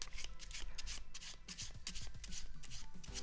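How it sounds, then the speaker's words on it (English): Playing cards are shuffled with single cards run off one at a time, making a quick series of soft riffling, rubbing snaps close to the mic in an uneven rhythm. "you're enabled to pull off or to shuffle off single cards. That's called running cards."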